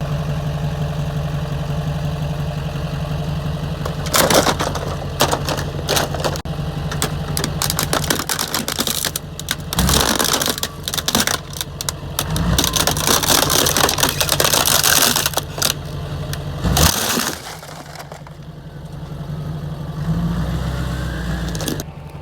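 Oversized monster-truck wheels on a leveled Duramax pickup crush an object, with a continuous mid-pitched engine rumble under a series of loud cracking, crunching bursts that come in waves and then fade to the idling engine.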